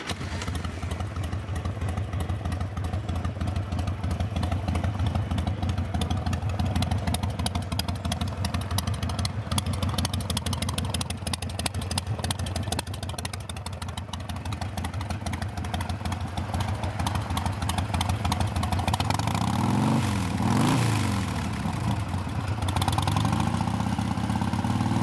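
Used Harley Davidson Sportster 1200 Custom XL1200C with 39,267 miles idling steadily up close, a continuous loud rumbling engine note with a brief rev swell near the end.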